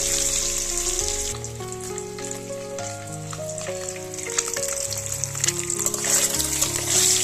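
Eggs frying in oil in a wok, giving a steady, bright sizzle and crackle that runs for the whole stretch, with tonal background music playing underneath.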